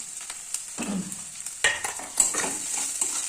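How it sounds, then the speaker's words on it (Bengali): Chopped onion with crushed ginger and garlic hitting hot oil in a pan, giving a close sizzle with a few sharp stirring knocks and scrapes, no voices. "ওর ভিতরে দিয়ে দিলাম, আর পেঁয়াজ কুচিটা দিয়ে দিলাম"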